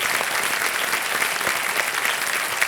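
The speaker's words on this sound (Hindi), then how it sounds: "तालियां बजाएं इनके लिए।" A studio audience at the Kaun Banega Crorepati quiz show breaks into sustained applause, a thick, uniform roar of clapping at constant loudness throughout, with no talking heard over it.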